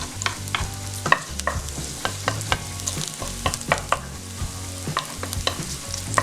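Garlic and onion frying in a pan, a steady sizzle broken by repeated scraping and stirring clatters from a spoon against the pan, close and fairly loud with no talking.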